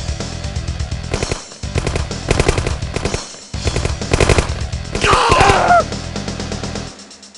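Rapid bursts of automatic gunfire crackle through a Lego animated battle against a Mirage tank, several loud volleys separated by short gaps, with a brief harsh sweep and a fading tail at the end.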